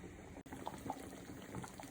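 Ghanaian peanut butter soup with goat meat simmers in a pot, giving a soft, steady bubbling hiss with a few faint pops and gurgles, close by and quiet, with no one talking.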